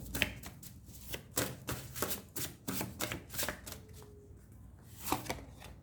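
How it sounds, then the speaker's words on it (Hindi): Tarot cards shuffled and drawn by hand, a rapid run of crisp flicking riffles and soft slaps close up, in irregular bursts with short pauses, no talking. "एंड 2 और कार्ड्स निकाल लेते हैं।"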